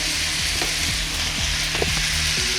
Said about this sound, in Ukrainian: Тепер я додаю до обсмаженого м'яса цибулю і обсмажую їх разом